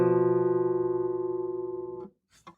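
A dissonant chord rings with a beating, wavering tone, held for about two seconds as it slowly fades, then stops, followed by a couple of faint clicks.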